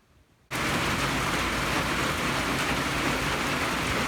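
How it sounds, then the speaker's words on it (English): Heavy rain pounds a tin porch roof in a steady, dense roar that starts abruptly after a brief quiet moment and holds loud and unbroken. "So the rain's really coming down out here. You can hear it on this tin roof."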